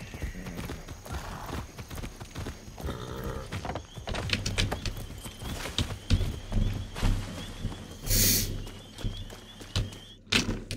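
Horses clip-clop along in the video game Far Cry 6, their hooves striking in a steady, rapid rhythm, with occasional whinnies and other farm animal noises mixed in over a busy game soundscape.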